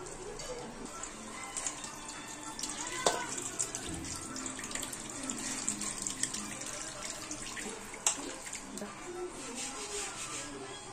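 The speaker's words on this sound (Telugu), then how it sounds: "ఇంకోసారి కొన్ని వాటర్ పోసి చింతపండు పిసుక్కుందాం" Water poured over tamarind in a bowl for Andhra-style fish pulusu, a continuous trickling, splashing stream with some rubbing and squishing, fairly quiet and steady throughout.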